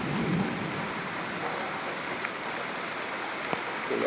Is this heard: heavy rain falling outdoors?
yes